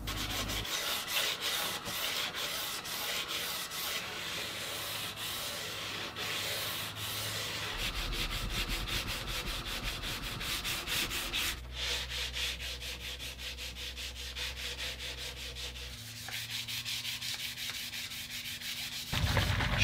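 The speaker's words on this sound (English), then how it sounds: "we're gonna move on and get some sanding done so we can apply a finish." Continuous scratchy sanding on a cigar box guitar's wood body, with steady back-and-forth rubbing strokes, close and even in loudness.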